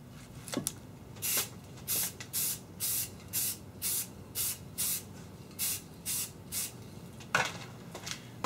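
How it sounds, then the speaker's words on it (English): Flat black primer hisses from a spray can onto a survival machete blade in about a dozen short, evenly spaced bursts, close to the microphone, with a couple of faint knocks between them. "We'll spray it with some flat black primer,"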